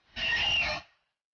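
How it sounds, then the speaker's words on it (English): The Screech monster in the Roblox game Doors lets out a single short, harsh, high-pitched screech lasting under a second, loud and close, cutting off abruptly into silence. "Spotting this slimy creature causes them to emit an ear-piercing screech before disappearing into the darkness once more."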